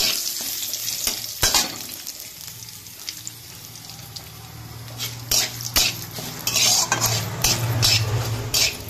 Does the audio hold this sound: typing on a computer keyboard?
no